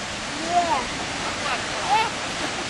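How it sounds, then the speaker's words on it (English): A big waterfall on Hawaii's Big Island roars as a constant broadband wash of falling water, loud and unbroken, with faint voices briefly audible over it. "what do you guys think of that big waterfall?"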